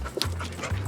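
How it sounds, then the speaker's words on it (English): A drug-sniffing dog works through a truck at an Irish border checkpoint, giving quick close sniffs and panting breaths with a faint whimper, against a low steady hum. "The dog goes to work, checking potential hiding places for smuggled drugs."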